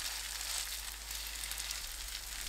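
Cabbage pancake batter with garlic fries in a preheated, oiled pan over medium-low heat, making a soft, continuous sizzle and crackle that stays faint and even, with no talking.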